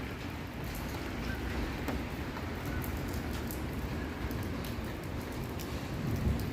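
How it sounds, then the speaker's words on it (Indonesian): Steady morning rain falling in Jeddah, Saudi Arabia, a continuous close hiss of drops on surfaces throughout, with no voices. "Di pagi hari ini jam setengah 8 pagi di Jeddah hujan"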